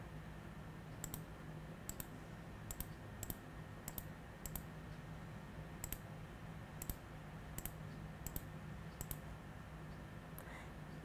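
Sparse computer mouse clicks, a dozen or so single taps spaced irregularly over a quiet room hum, close and crisp but faint, with no talking.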